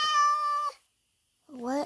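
A Minecraft cat meows twice: a steady, tonal mew, then a short pause and a second rising meow, both loud and close.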